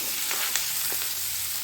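Sliced onions frying in a pan with browned cumin seeds, a steady close sizzle and crackle with a few sharper pops, no talk, for restaurant-style paneer butter masala.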